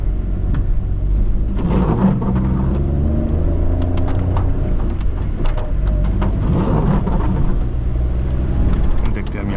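A Maruti Alto engine labors uphill in second gear through tight Shimla streets, a close, rumbling drone with irregular knocks and clatter, while someone talks over it.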